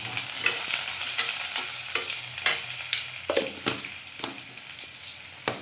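Chopped garlic and a spoonful of cumin seeds frying in oil for an okra dish, a steady close sizzle broken by sharp scraping stirs at irregular intervals, with no talking.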